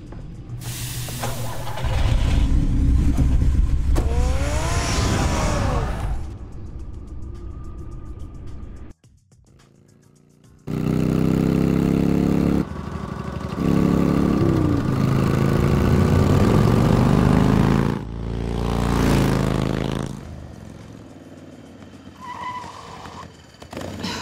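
A car engine in the Telltale Batman video game, loud and close, droning and revving with a hissing wash, cutting out briefly partway through and then surging again.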